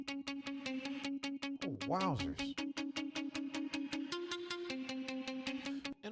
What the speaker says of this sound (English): here I'm automating the dry wet to kind of create these reverb swells in the groove